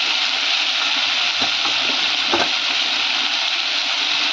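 Tomato and potato pieces fry in a kadhai with a steady, bright sizzle that stays loud and even throughout, with a few soft stirring clatters in the middle and no voices.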